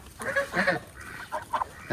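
Several native ducks on a farm give loud, nasal honking quacks in a short, uneven series, close by.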